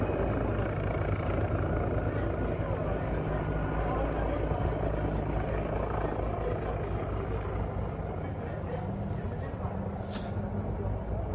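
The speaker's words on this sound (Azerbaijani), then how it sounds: "hazırda atak helikopterləri ərazidə ümumilikdə müşahidələr aparır" Attack helicopters flying over a large-scale military exercise area in Kars give a steady, continuous rotor drone and engine rumble that holds at an even loudness throughout.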